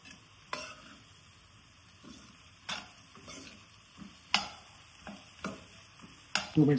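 Bitter gourd frying in oil in a home village-style kitchen, a faint steady sizzle broken by occasional sharp scrapes and taps of a stirring spoon against the pan, with no voices.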